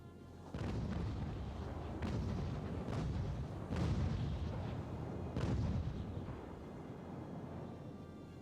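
Naval cannon fire from a sailing-era sea battle in a strategy game booms repeatedly, with heavy shots landing roughly every second over a steady rumbling bed of distant gunfire.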